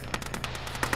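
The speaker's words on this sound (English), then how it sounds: "Gunshot southeast." Gunfire in the military video game Arma, heard as a quick rapid series of sharp cracks with little gap between them, fairly distant and faint, with no talking.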